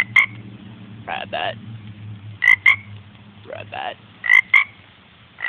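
A frog croaks in short paired bursts, loud and close, repeating about three times over steady low background hum, while a person calls out between the croaks.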